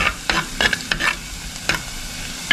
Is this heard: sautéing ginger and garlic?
yes